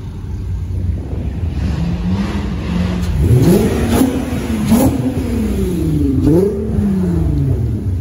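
A loud car engine revs hard several times in rising and falling sweeps as cars leave the FITTEDUK 2022 supercar and tuner show in pouring rain. The engine is close and dominant throughout, with no voices.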